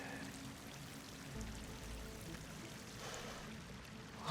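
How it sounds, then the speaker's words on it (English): Water pouring into an enclosed chamber in the video game Horizon Forbidden West: a steady, fairly faint rushing stream that runs throughout without a break and carries no voices. "Water's coming in."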